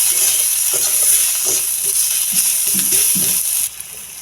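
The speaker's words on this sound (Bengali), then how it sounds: "এবার মশলাটা ভালো করে কষিয়ে নেব।" Spices with salt, turmeric and chili powder sautéing in a pan for chicken pasta, a continuous close hiss of frying with occasional stirring scrapes, dropping slightly quieter near the end.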